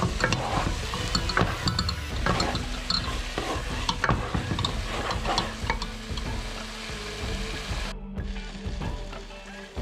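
Beef and tomato stew cooking down to a paste in a pan, a dense close sizzle under repeated scraping stirs, busy and loud throughout before easing slightly near the end.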